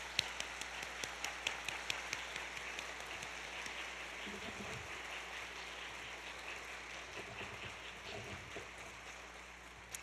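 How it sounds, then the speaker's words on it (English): Museum audience applauding a group of staff and partners, a steady round of clapping with crisp individual claps near the start, continuing at an even level under low background hum. "Would you please give these individuals a round of applause?"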